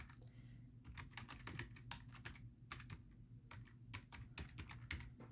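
Fingers type on a computer keyboard in quick, uneven bursts of clicking keystrokes, close and clear, with short pauses between runs of keys.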